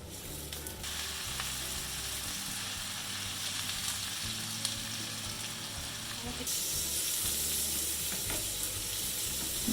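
Potatoes fry in a pan at home with a continuous loud sizzle and hiss, steady throughout and rising slightly toward the end, with occasional stirring scrapes.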